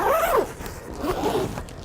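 A zipper on a fabric sauna tent is pulled in two close, rasping strokes, each about half a second long, heard nearby and alone.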